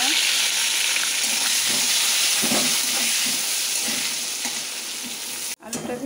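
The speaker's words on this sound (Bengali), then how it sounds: "আলুটাকে ভেজে নিচ্ছি।" Potatoes with turmeric frying in hot oil give a steady, close, loud sizzle with bubbling crackle that holds throughout, dipping briefly near the end before resuming.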